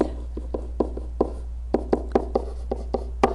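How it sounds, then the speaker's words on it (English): Handwriting during a polynomial math lesson: a pen taps and strokes on a surface in about a dozen short, distinct marks at an uneven pace, close and clear, alone without speech. "I'll just write it over here as well"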